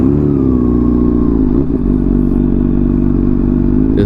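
A 2017 Honda CBR600RR motorcycle fitted with a Hotbodies Stinger exhaust idles and revs loudly up close, a raspy rumbling drone with a brief blip of throttle midway, no talking.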